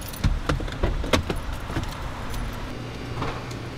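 House keys jangle in irregular clinking bursts, close by and moderately loud, over a low rumbling background like a car interior.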